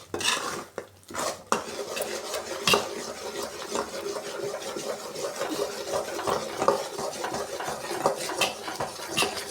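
A spoon scrapes and stirs Mysore Pak sweet mixture in a pan while oil is poured in little by little, giving steady, repeated close-up scraping and clinking against the metal.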